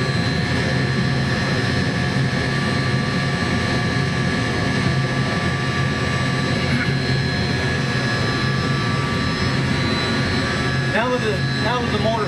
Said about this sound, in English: Now it's going to stop the motor. It's going to ramp down.